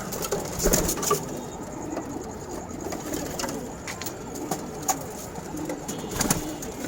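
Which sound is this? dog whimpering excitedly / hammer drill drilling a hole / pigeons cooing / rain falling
pigeons cooing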